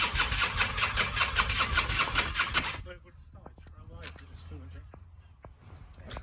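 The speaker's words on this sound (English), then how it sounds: "The Harley Davidson is about to start." A fuel-injected, late-model Harley Davidson motorcycle starts up outdoors with a loud, rhythmic burst of engine noise that then drops to a quieter, rumbling idle.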